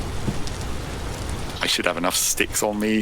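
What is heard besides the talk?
rain in the video game Vintage Story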